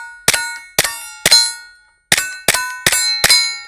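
Gunshots hitting a steel target, seven sharp metallic clangs, each ringing briefly and then decaying, in two quick groups of three and four separated by a short silence.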